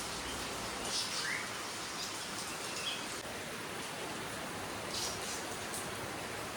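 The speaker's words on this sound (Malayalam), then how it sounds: "റെയിൻ്റെയും കുയിലിൻ്റെയും എന്തൊക്കെ കിളികളുടെയൊക്കെ സൗണ്ട് കേൾക്കാൻ നല്ല രസമുണ്ട്" Steady rain hisses throughout while a few faint cuckoo and other bird calls chirp now and then in the distance.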